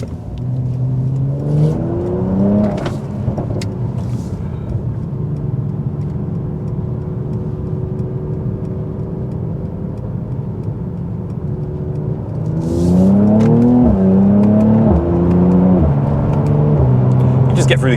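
A 400hp Mercedes C43 AMG accelerates hard through its gears, the engine note climbing and dropping with each quick shift, loud and steady inside the cabin, with a brief voice over it.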